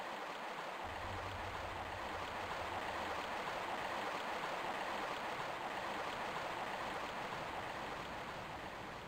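Steady flowing water, like a stream or waterfall, in the Tomb Raider I Remastered video game, a continuous broadband rush that holds even and fairly loud throughout with no talking.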